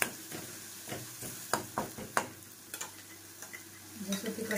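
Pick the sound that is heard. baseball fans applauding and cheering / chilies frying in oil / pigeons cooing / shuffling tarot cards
chilies frying in oil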